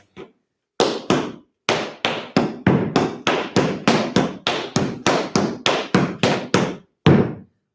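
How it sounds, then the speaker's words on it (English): Tap dance shoes on a hard floor: about fifteen crisp, loud scuffs, flaps, and heel and toe taps in a steady, even rhythm, close and alone, ending with a final heavier step. "Scuff heel, back flap heel, tip heel, step down, brush, brush, brush heel, tip."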